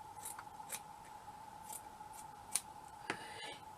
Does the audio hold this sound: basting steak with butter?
no